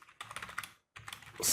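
Rapid keystrokes on a computer keyboard while typing lines in a text editor, two quick clattering bursts separated by a brief pause, close and clear with no voices.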